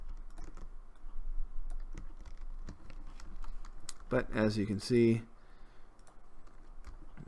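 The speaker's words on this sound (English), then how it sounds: "And you hear all this clicking?" Rapid keyboard typing and mouse clicking while playing Cities: Skylines, a dense run of light, close clicks throughout, with someone speaking briefly over them.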